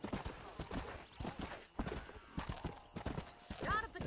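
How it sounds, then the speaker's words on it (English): Galloping horses pound in rapid clip-clop rhythm during a horse race in the video game Red Dead Redemption, with hoofbeats close and busy, a whinny near the end, and someone talking over the race. "Ah, que es carrera de caballos, no es de carruaje."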